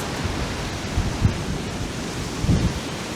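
Strong typhoon wind roars steadily and close, with heavy sea waves surging beneath it and a couple of dull low gusts that buffet the microphone.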